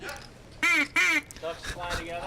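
A kazoo blown at a poker table makes two loud, buzzy duck-like quacks, followed by softer honks mixed with people talking.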